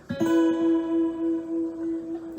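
A single guitar chord rings out after one strum, sustaining steadily and fading slowly over a couple of seconds.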